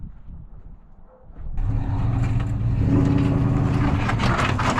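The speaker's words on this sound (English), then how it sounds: "we're gonna try our luck at the jerk the truck forward and see if the e-brake will pop it out method" A truck jerks forward to pop a car off its ramps. A quiet stretch gives way to an engine surging into a loud, sustained rumble that carries to the end.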